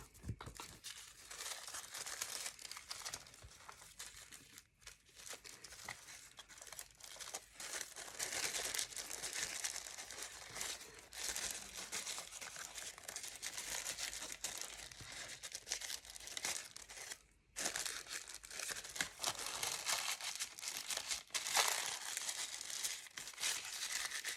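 Paper being folded by hand to make a tulip-like flower: a continuous close, soft crinkling and rustling, with small creases and crunches throughout and no speech.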